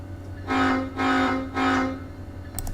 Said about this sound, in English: So it honks 3 times for backup moves.